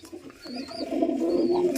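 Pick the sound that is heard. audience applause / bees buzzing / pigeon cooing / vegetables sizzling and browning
pigeon cooing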